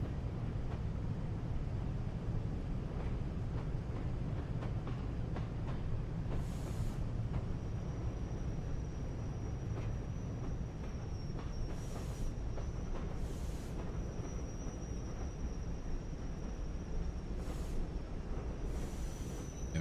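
A shunting locomotive runs in the video game Train Sim World 3 with a steady, low engine rumble and faint, thin high whines. Brief hissing bursts come and go over it, with no voices.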